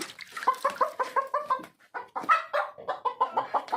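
A hen clucks in a rapid run of short, close calls, pausing briefly before another burst of clucks, loud and alone.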